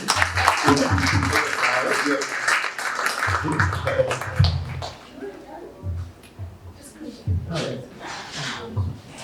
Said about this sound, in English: Round of applause and thank you.